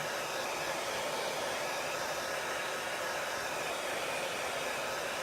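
A hair dryer blows steadily and close, drying a chalk transfer layer in a craft project, a constant loud whooshing hum with no pauses and no voices.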